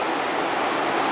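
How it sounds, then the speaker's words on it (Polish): Swollen Nysa river running high after storms and downpours in the Kłodzko Valley, heard as a steady, broad rushing roar of fast water, continuous and loud with no voices over it. "Duży stan wody na Nysie."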